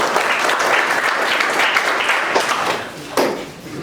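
An audience at a local gathering honouring students in Darbhanga breaks into loud, sustained applause that fills the whole stretch, with a sharp knock near the end.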